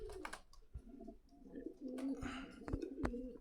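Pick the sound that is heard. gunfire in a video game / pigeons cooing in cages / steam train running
pigeons cooing in cages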